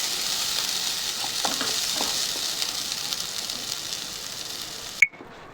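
Masala spice mix dry-roasting in a pan for a spicy soybean curry, giving a steady, close sizzle and crackle that runs throughout, then cuts off with a short beep and sudden silence near the end.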